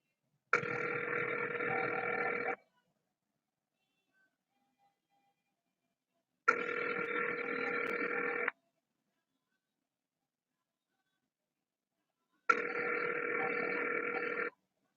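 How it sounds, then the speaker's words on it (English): Telephone ring-back tone sounding while a call is transferred to a public defender's office line, three long two-second rings separated by about four seconds of silence, clear and steady with no voices. "Okay, I'm going to transfer you to James Karbach"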